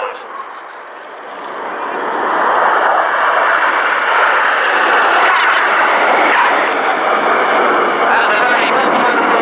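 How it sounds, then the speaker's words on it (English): Concorde flies past at an airshow with a loud, broad jet roar that swells after the first couple of seconds and stays strong and sustained, with a commentator's voice present. "they're going to present Concorde. This is Concorde."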